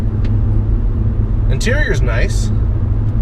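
Steady low road and engine rumble inside an Audi A4 1.8T sedan cruising at about 100 km/h, continuous throughout, with a person briefly talking over it.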